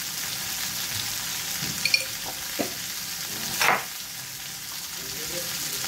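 Ladyfinger, brinjal and potato pieces fry with spices in a pan, a steady soft close sizzle with a few scraping stirs of a spoon, and no talking over it.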